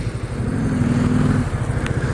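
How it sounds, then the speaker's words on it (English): A passing motorcycle rumbles steadily close by in traffic, its low engine drone swelling briefly with a smooth sustained tone, recorded from another motorcycle rider's perspective. "Hey, first motorcycle I've seen all winter."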